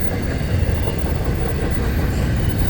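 A long FEC freight train rumbles steadily past, dense low rattling and rolling noise with no break, loud and continuous throughout.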